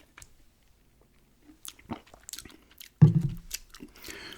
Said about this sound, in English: now it's probably because I'm chewing gum too